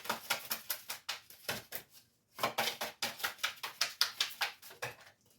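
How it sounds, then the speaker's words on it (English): Rapid, crisp riffling bursts of playing cards being shuffled, two quick rounds separated by a short pause, close and clear. "2 more shuffles and I'll pull from the top."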